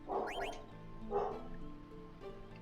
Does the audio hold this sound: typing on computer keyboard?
no